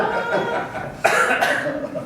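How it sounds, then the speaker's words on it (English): A single sharp cough bursts out midway, loud and close, over a murmur of background noise and room chatter at a town board meeting. "That made me cough."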